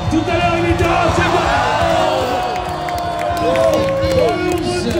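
A large arena crowd at an IFSC Speed Climbing World Cup event cheers, whoops and applauds in a loud, sustained roar, with a commentator talking over the noise throughout.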